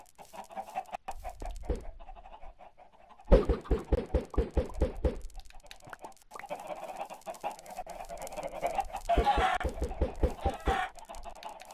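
Blocky Minecraft chickens cluck repeatedly in a farm pen, short bursts of clucks coming in clusters over soft game ambience, fairly close and moderately loud with no talking.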